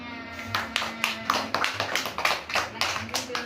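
A classroom audience claps after a student's presentation, a burst of sparse, uneven handclaps lasting a few seconds at moderate distance.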